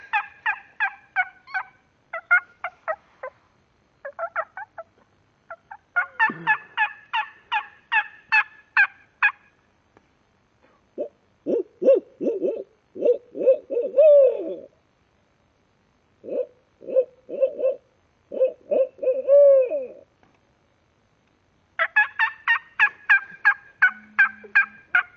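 A human imitation of a hoot owl call during a turkey-calling demonstration: series of low, rhythmic hooting phrases in the middle, framed by higher, sharp, rapid turkey-style calls before and after, all close and loud with brief silences between.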